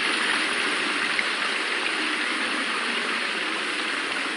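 Steady flowing water in a video game level, a continuous rushing stream-like wash heard alone and evenly loud throughout.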